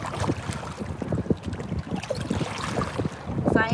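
Rough, blustery wind buffets the microphone in uneven gusts, mixed with the slap and rush of water against a Wilderness Systems Tarpon fishing kayak.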